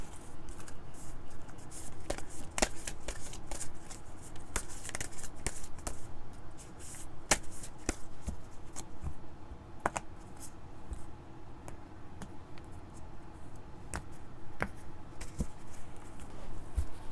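Tarot cards being shuffled and drawn for a weekly reading, a steady run of soft papery riffles and sharp snaps with frequent crisp clicks, close and continuous with no talking.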